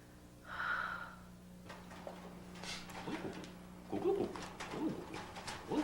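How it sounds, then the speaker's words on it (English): A pigeon coos softly in a kitchen during a movie scene, a few low murmuring calls spread across the moment with faint breathy rustles and no talk over them. "Oh, it's a pigeon."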